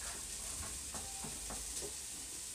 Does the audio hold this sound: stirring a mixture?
yes